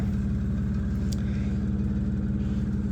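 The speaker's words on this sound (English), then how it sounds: "noise you can hear, that is the AC unit right there." A steady, droning mechanical hum from a hotel room air conditioning unit at the Crowne Plaza Times Square in Manhattan runs without a break, with a low rumble and a constant airy hiss.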